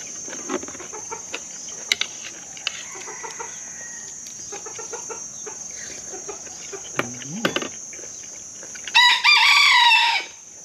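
An American game rooster crows loudly and close near the end, a single long harmonic call that follows a stretch of faint clucks and scattered background noises.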